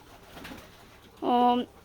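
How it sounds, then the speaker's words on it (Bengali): Pigeons coo at a farm keeping many breeds of pigeon, one short harmonic call rising out of quiet background murmur near the end. "আমাদের খামারে সব ধরনের কবুতর পাওয়া যায়"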